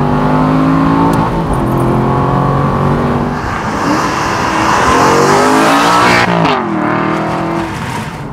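A 4.3-litre V8 in an Aston Martin Vantage Roadster revs loud and close, a sustained throaty roar that swells and rises in pitch before dropping back, with a shifting tone as the car accelerates.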